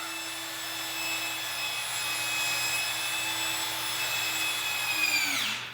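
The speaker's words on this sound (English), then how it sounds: "So I'm literally drilling down into the subfloor so you can get at it from the basement." A power drill with a large 1.25-inch bit boring down through a log home's floor system into the subfloor, a steady high whining grind held for several seconds before the motor winds down at the end, close up with no talk.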